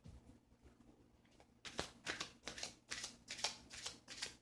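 Angel prayer oracle cards are shuffled close by in a quick series of crisp riffling bursts after a quiet start.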